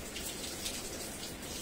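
Soft, steady patter of rain falling outdoors, a faint continuous hiss with scattered drops and no voices.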